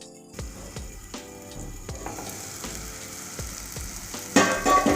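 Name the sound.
tomato masala sizzling while cooking covered in pan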